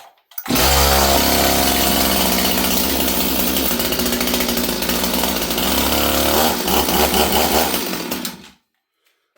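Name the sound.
STIHL 026 chainsaw being pull-started, not starting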